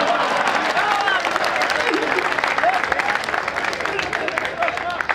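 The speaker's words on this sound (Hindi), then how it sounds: "सारे लोग ताली बजाओ वरना डांस करके दिखाऊंगा।" A crowd at a Hindi stand-up comedy show claps loudly and continuously, with dense applause and cheering voices throughout.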